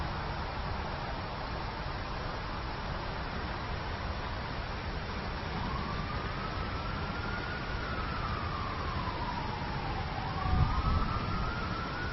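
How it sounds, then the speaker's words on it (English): A faint siren wails in the distance, slowly rising and falling over a steady wash of broadband noise, with a brief low thump near the end, on a disc golf course. "We have sirens going off in the background, but James throws anyway"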